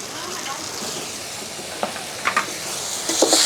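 Poppy seed paste and green chilli paste frying in a pan, a soft continuous sizzle with a few sharp spatula scrapes and clicks toward the end.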